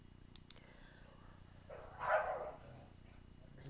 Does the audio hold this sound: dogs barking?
yes